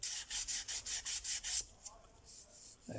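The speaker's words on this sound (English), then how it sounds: "For me, doing sanding like this, the feel with my fingers is just as important" Rhythmic back-and-forth rubbing strokes of hand sanding a 3D-printed model, about eight quick passes, close up, then it stops to quiet with a faint knock.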